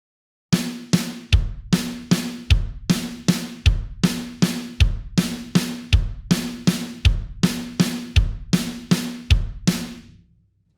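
Slow drum triplet exercise on a drum kit, two hand strokes followed by one bass drum kick, repeating in a steady, even rhythm for about ten seconds with sharp attacks and no talking.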